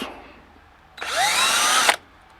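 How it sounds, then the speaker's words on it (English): One loud, close burst of a power drill drilling into wood, lasting about a second, its pitch sweeping upward as it bites, then stopping abruptly. "So let's drill some holes."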